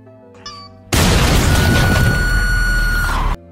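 A loud, sudden blast as an enemy's body explodes in a film action scene, following a faint short sound and sustaining as a dense roaring burst for about two and a half seconds before cutting off sharply.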